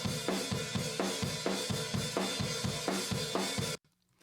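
A drum kit is picked up by a stereo pair of ribbon room mics, giving a roomy, full recording of a steady repeating beat that cuts off abruptly near the end.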